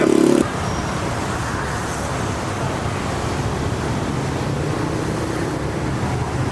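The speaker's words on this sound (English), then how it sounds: "I hate loud scooters." Loud, steady motor rumble of motor scooters passing close by, with continuous engine and road noise and no talking.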